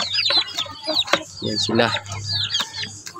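Aseel chickens and their chicks cluck and peep close by in a breeding pen, short overlapping calls with a steady low hum beneath, while a person speaks among them.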